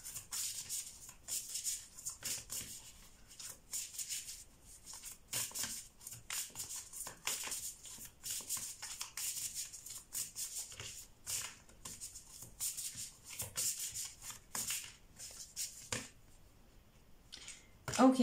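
Tarot cards are shuffled by hand in a quick, irregular run of soft riffling and flicking bursts, close and fairly quiet, continuing almost without pause with a brief lull near the end.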